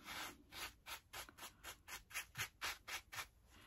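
Soft rhythmic brushing on a polyester coat to loosen dirt, about a dozen gentle strokes in steady succession, faint and close, with no voices.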